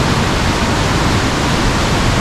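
Fast mountain river water rushing past large boulders beside the Gilgit Skardu road in Pakistan, a loud, steady broadband roar that fills the whole short stretch without a break.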